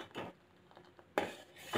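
Spoon scraping and clinking against a metal pot as almond paste is stirred into milk, two short bursts separated by a quiet pause, close and fairly soft.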